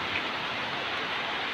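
Steady rain falling in the Mekong Delta countryside of southern Vietnam, an even, continuous hiss of drops without pause, fairly close and moderately loud.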